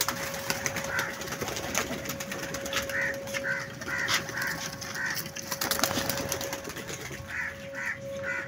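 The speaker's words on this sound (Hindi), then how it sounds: "चलो दोस्तों, कबूतर उड़ा दिए।" A flock of pigeons released to fly, with repeated cooing and wingbeat bursts in a loose rhythm over a steady outdoor hum and background noise.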